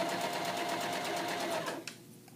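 A sewing machine runs steadily, stitching a knit cuff with fabric gently pulled flat, a close, continuous rapid whir that stops abruptly near the end, followed by a faint click.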